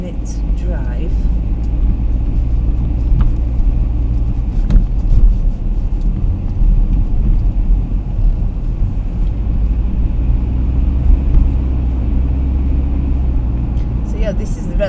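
A car drives through the residential streets of Blackpool on a foggy day, heard from inside as a steady, close, low road and engine rumble that never lets up.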